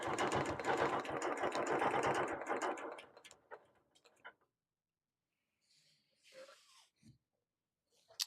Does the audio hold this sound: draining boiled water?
no